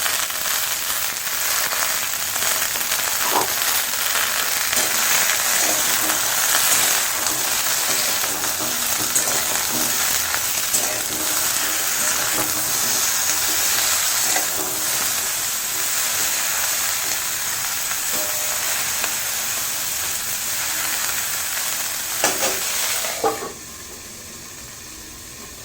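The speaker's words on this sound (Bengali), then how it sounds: "ফুলকপি ভাজা হয়ে যাক" Cauliflower fries in a pan with a dense, continuous loud sizzle and crackle held close for a long stretch, then the noise drops sharply near the end.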